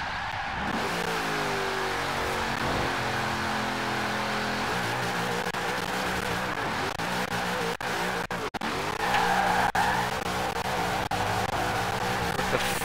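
A car in Forza Horizon 4 skidding, long sustained tire squeal over a revving engine whose tone rises and falls, loud and steady, with a few sharp clicks near the end.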